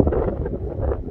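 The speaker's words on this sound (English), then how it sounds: "It's kind of windy." Wind buffets an outdoor microphone steadily on a walk through the old mining town of Goldfield, Nevada, a continuous low rumble that rises and falls in gusts with no talk over it.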